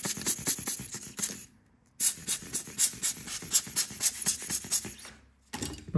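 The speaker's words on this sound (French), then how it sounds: "on souffle pour être sûr qu'il n'y a pas de poussière à l'intérieur" Short, breathy puffs of air are blown into the camera housing of a damaged iPhone 12 mini to clear dust, coming as a close, rhythmic series of bursts in two runs with a silent gap between.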